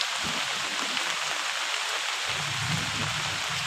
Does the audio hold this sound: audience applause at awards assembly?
no